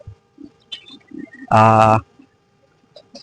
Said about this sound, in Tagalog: paratingan ng ating mga ibon dahil mahiwaga yung mga kalapate